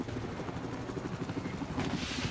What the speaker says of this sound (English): Helicopter versus helicopter action potential